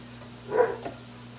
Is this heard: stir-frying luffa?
no